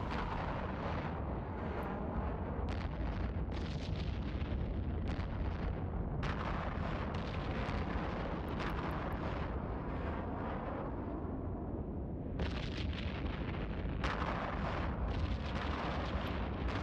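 Ship weapons firing in the space game Eve Online, heard as a dense, continuous roar of booming blasts and rumbling explosions with repeated sharp bursts throughout, loud and without talk.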